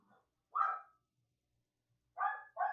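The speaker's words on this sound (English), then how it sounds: "the dogs are barking, don't mind that" Dogs barking indoors at a distance, three separate short barks: one, then a pause, then two close together, moderately faint against a quiet room.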